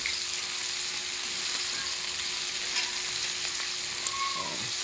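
Chicken skin fries in a pan with a steady, bright sizzle that stays even throughout, close up, with a faint tap or clink near the end and no talk.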